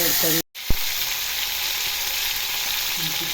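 Cut cucumber hits hot oil, bringing a loud, steady sizzle and hiss. A short dropout and a sharp clack come before the frying settles, and faint talk sits underneath.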